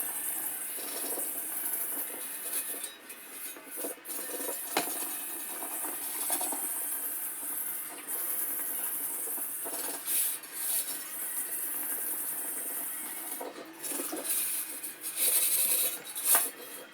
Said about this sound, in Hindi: मैं सबसे पहले स्क्रब की मदद से इसके अंदर लिक्विड सोप डाल के इसको अच्छे तरीके से रगड़ के अंदर बाहर से धो के